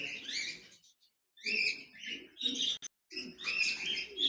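A pair of lutino red-eye cockatiels in a cage chirp in short, shrill bursts separated by brief silences, close and fairly quiet, with no talking.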